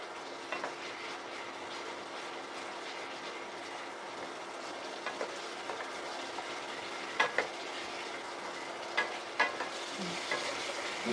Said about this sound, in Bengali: ফুটতে শুরু করে দিয়েছে।